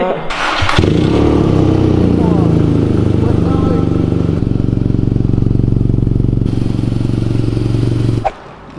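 A motorcycle engine with its exhaust baffles removed revs hard and loud for about eight seconds, a deep throbbing exhaust note rising and settling before it cuts off, with a voice talking underneath.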